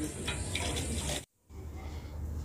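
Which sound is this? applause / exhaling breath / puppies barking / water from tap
water from tap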